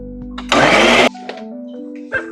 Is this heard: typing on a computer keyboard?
no